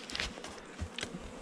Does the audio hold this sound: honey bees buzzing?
yes